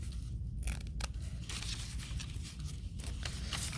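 Scissors slice through plaster strips, two at a time, with a steady dense scraping and snipping that continues throughout at close range.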